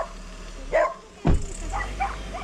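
A dog at a riverside fishing spot gives two short yipping barks, close by, with a faint low engine rumble underneath.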